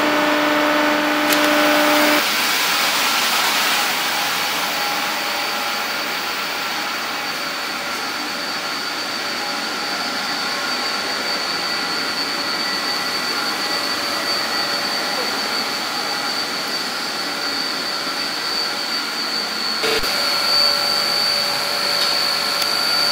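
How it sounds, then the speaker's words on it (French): A feed mechanism in a wood-chip boiler plant pushes chips into the boiler, making a loud, steady mechanical roar with a sustained hum and a brief clunk near the end. "dès ce moment-là, on pousse les copeaux de la chaudière"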